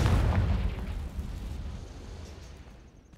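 Confringo fire spell bursting in the Hogwarts Legacy video game, one heavy booming explosion that hits at once and then fades into a long rumbling decay over about three seconds.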